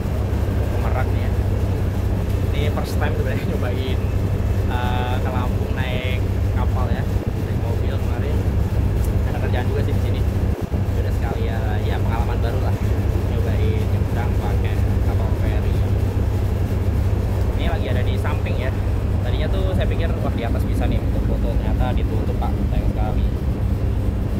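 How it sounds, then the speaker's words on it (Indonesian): A constant low engine rumble and hum of a ferry from Bakauheni, Lampung, drones throughout, heard on board, with faint clatter and voices in the background. "sekarang saya lagi ada di kapal ferry"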